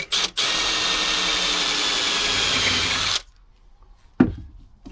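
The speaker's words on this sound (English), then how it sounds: "drill a small hole." Cordless power drill boring a small hole in wood for a camping drawer build: a steady, loud whine for about three seconds after a quick start-stop, then quiet and a single knock.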